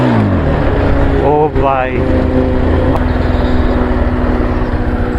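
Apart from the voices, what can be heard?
Bajaj Pulsar 220F motorcycle engine revving during wheelie attempt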